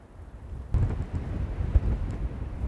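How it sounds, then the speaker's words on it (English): Gale-force wind gusts outdoors in open fields roar and buffet against the microphone in low, rumbling surges, loud and close, with no talk. "When these gusts come, by God, it's like really hard."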